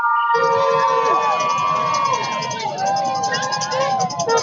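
A dense crowd at the Krewe du Vieux Mardi Gras parade cheers and shouts loudly and continuously, with high whoops and children's voices rising over the steady roar.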